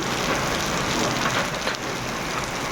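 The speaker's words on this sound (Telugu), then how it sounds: "చాలా వర్షం పడుతుంది" Heavy monsoon rain pours down steadily over village fields, a dense, continuous roar of falling water that stays loud and unbroken throughout with no voices.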